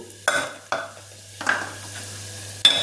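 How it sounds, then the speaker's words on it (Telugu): A spoonful of rasam powder sizzling in hot oil in a pan, with a steady soft frying hiss and a few sharp spoon scrapes and taps against the pan as it is stirred, with no talking. "ముందు 1 స్పూను రసం పొడిని కూడా ఈ ఆయిల్లో వేద్దాము."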